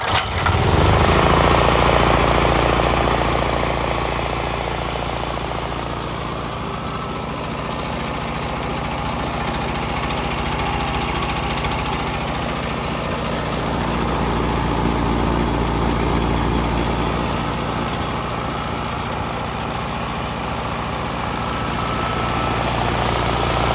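A Generac 5500 portable generator engine runs steadily after being started with starting fluid, a loud continuous mechanical drone with a slight rise and fall throughout.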